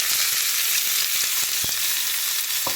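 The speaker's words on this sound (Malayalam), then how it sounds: "ഇപ്പം കടുക് പൊട്ടി എണ്ണയ്ക്കകത്ത്" Mustard seeds pop and splutter in hot oil while cooking a clam meat fry, a constant bright sizzle broken by sharp, scattered crackles, close and loud with no voices.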